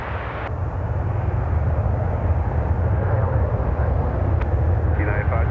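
A Boeing 747 lands at Chicago O'Hare airport as a steady, loud jet roar rumbles on throughout, with a brief radio-style voice audible near the end.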